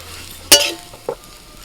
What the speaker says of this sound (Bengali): এবার সিমুইটা ভেজে নেবো এখানে আমি লাচ্চা সিমুই নিয়েছি